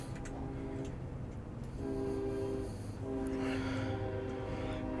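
A train in the city-building game Cities: Skylines 2 rolls along with a steady rumble and repeated sustained horn-like tones, moderately quiet with a faint ticking pulse throughout.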